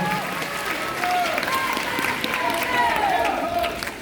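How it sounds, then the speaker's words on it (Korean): Audience applause and cheering for a baseball player at an NC Dinos town hall fan meeting, a steady crowd roar of clapping with some whistles and voices mixed in, loud and sustained. "선수에게 다시 한 번 박수 부탁드리겠습니다."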